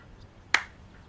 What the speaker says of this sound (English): When I clap my hands, you'll be awake